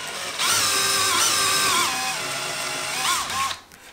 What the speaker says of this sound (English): pre-drilling into your cabinets to get ready for the screws